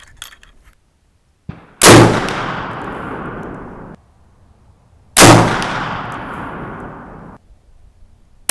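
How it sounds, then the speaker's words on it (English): Two loud, close .450 Bushmaster rifle shots fired at a target about three seconds apart, each a sharp crack with a long ringing decay, and no talking. "I guess I'll shoot for that center target."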